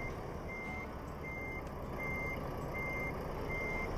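A truck in Euro Truck Simulator 2 reverses on snowy Baltic roads, its reversing alarm beeping in a steady regular rhythm, about five evenly spaced tones over a low continuous engine rumble.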